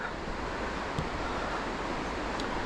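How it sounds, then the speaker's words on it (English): Steady roar of the Cucumber Rapids on the Youghiogheny River at Ohiopyle, rushing over boulders, loud and continuous with no breaks, churning in the distance below. "That noise is the Cucumber Rapids."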